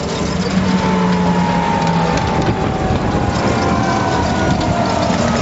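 Venturi Eclectic solar-powered electric prototype car running, a steady mechanical whir and rattle with faint rising whines over broadband rumble and wind noise, continuous and fairly close.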